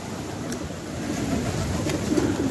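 Pigeons from a fresh flock of about sixty birds at a pigeon-keeping loft, with a steady dense bed of soft cooing and fluttering outdoors, continuous and moderately loud with no talk.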